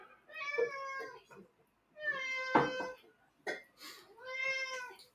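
A cat meows several times close up, long drawn-out harmonic calls in three separate bursts with short pauses between, loud and clear in a quiet indoor room.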